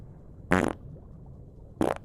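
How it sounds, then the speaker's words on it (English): Two short, sharp farts, a second apart and close, each a brief buzzing burst over quiet background. "distracted you with a fart"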